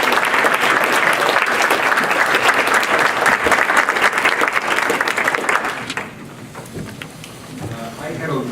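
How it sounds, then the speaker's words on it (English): A conference audience at a higher-education event gives a dense, sustained round of applause that fills the room for about six seconds, then thins out and fades into scattered claps and room noise. "if I could get a round of applause for"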